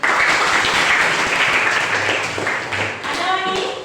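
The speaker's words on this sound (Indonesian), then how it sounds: "Tepuk tangan." Classroom of students clapping together, a dense steady round of applause that carries on throughout with a voice briefly heard in the mix.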